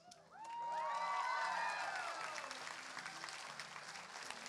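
A crowd at a convention costume contest breaks into applause with high shrill cheers and whoops, swelling quickly and then settling into steady clapping.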